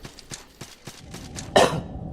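A slightly sick man coughs in a quick string of short, dry bursts, then lets out one louder, harsher cough near the end, close and alone.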